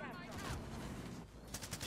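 Dense, continuous automatic rifle fire crackles through a Call of Duty Warzone match, a steady rattle of rapid shots with a few sharper bursts near the end.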